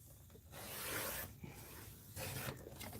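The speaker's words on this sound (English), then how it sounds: "All right, so we got to trim off this little margin." A paper margin trimmed off for a mixed media art piece, heard as close, quiet scraping and rasping strokes in several sustained passes with brief pauses, no voices.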